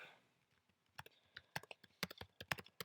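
Fingers tap out scattered keystrokes on a computer keyboard, starting hesitantly and then quickening into a brisk, uneven run of sharp clicks close to the listener.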